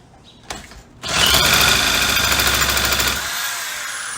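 A Poulan 2150 chainsaw is cranked with its supplied electric starter: a short buzz, then a loud, steady mechanical whirring drone for about two seconds that drops to a lower, quieter whine as the starter lets go, close up with no talk.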